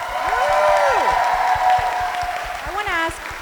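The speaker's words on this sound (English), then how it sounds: "I think they need another round of applause." An audience at a reception gives performers a round of applause: a loud, continuous wash of many hands clapping, with some crowd noise. A person talks over it throughout.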